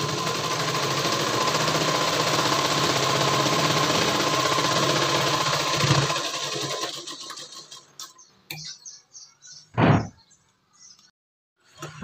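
A sewing machine stitches a blouse, running steadily at moderate loudness for about six seconds, then stopping, followed by scattered handling clicks and a short thump.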